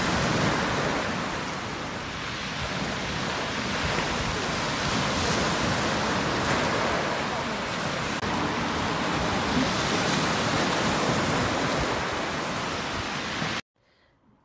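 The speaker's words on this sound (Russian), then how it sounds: "сегодня не погода, дождик" Light rain falling outdoors, a steady wash of dense, broadband hiss that stays even and fairly loud before cutting off abruptly at the end.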